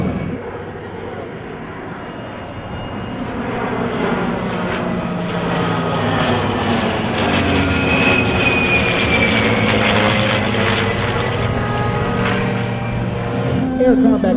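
A military aircraft's engine drones loudly and steadily at a 2005 airshow in Bergen as it comes in to land, swelling slightly, with an announcer talking over the roar throughout.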